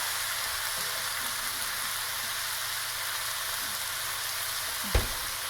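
Ground meat sizzles and fries steadily in a hot pot for a lasagna Bolognese ragù, a dense continuous crackle with one brief clunk near the end and no talking.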